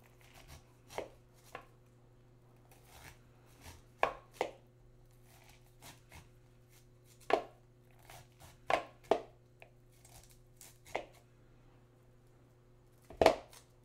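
A knife chops through corn on a cutting board during a breakfast corn maque choux cook, giving a dozen or so sharp, separate knocks at an uneven pace over a low steady hum, with no talking.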